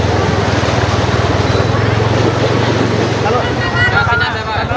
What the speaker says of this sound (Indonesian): Ada air bah turun.